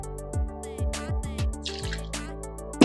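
Coconut rum poured into a cocktail glass while mixing a Blue Hawaiian, heard as a short run of close, distinct glugs and drips over about three seconds, with no talking.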